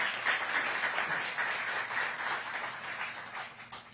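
An audience at a restaurant week kickoff event gives a sustained round of applause, a dense wash of clapping that stays steady and fairly loud throughout.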